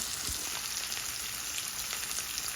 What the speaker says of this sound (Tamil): இது நல்லா இப்படி வதங்கட்டும்.